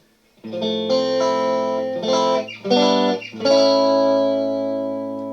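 Clean electric guitar played through a Frugal Amps Lightning circuit amp in a lunchbox-style enclosure, single-coil pickups, sounding a few sustained, ringing chords and notes that bloom and decay loudly, alone without talk.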